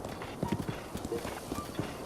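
Horse hooves clip-clop steadily as a rider travels in the video game Zelda: Breath of the Wild. The beat is regular and close, mixed with soft background music and a voice talking over it.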